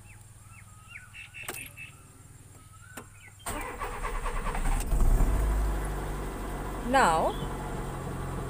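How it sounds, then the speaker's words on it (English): A car engine cranking and starting with the ignition key, the clutch held down, then settling into a steady idle; a few faint clicks and a short word of speech come before the engine catches, and the engine runs near and loud after. "So insert the key and on the ignition, full clutch."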